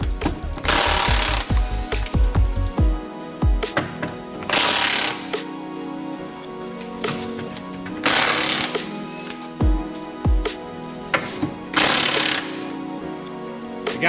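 An impact tool undoing 24mm front subframe bolts on an Alfa Romeo 159, loud rattling hammering bursts of a second or two, repeated several times with pauses and lighter clicks between them.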